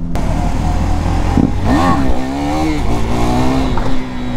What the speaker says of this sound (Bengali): সুমনদাও আজকে ফার্স্ট টাইম R15 নিয়ে হুইলি ট্রাই করছে